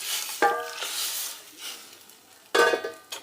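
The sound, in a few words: stirring gram flour curry in a pan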